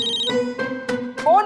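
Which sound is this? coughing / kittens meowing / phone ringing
phone ringing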